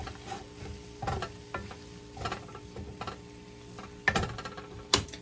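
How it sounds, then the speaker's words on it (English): A spinach and mushroom crepe filling is stirred in a pan, giving a string of close scraping, clinking utensil strokes over a faint sizzle. The knocks come at an irregular rhythm and grow sharper toward the end. There is no speech. "Just stir to combine."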